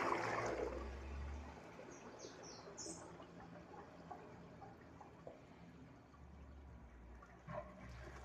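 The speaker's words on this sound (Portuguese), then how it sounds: "Vou dar mais uma descarga." A second flush of a clogged toilet covered with a trash bag: a brief rush of water at the start, then a long, quieter trickle and refill that swells again near the end, close up, with no speech.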